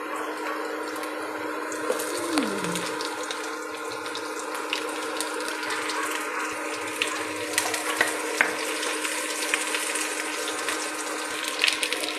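Garlic frying in a pan at home, with a steady, continuous hiss and crackle of hot oil that runs evenly throughout, along with faint tap-like watery sounds and no talking.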